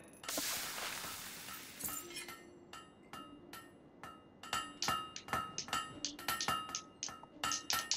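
Hammer blows ringing on an anvil at a Fable III blacksmith forge, clear metallic clinks that quicken into a steady rapid series of sharp strikes, close and loud with no talk.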